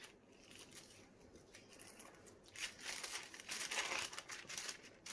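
A sealed plastic bag crinkles close by as scissors cut it open, with quiet rustling that grows louder and more crackly toward the end.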